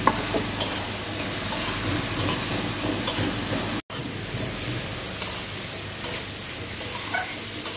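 Spices and vegetables frying and being stirred in a pan with a little water, a steady close sizzle with scraping stir strokes throughout, broken by one brief pause.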